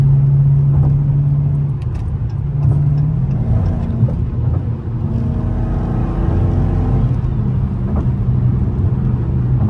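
A Dodge Challenger Scat Pack 392 drives through Philadelphia, its engine a loud, steady rumble throughout. Pitch shifts with each gear change and throttle change, and no one speaks.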